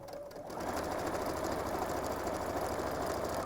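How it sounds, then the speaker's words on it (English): A sewing machine starts up and runs steadily, stitching piping onto a tote bag in a short burst, with a loud, close, even motor hum and rapid needle chatter. "So I'm sewing in like little maybe 2 to 3 inch bursts"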